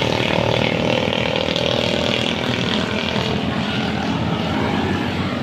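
A Yamaha Aerox scooter races by on a mountain road during an informal Sunday street race, its loud steady engine drone filling the whole stretch without letup.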